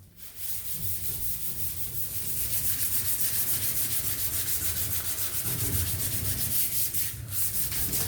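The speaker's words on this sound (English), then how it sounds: "we sand the piece with the 80 grit sandpaper for expose the metal" Car body filler is sanded by hand with 80 grit sandpaper in steady, close rasping strokes that continue throughout, with no speech.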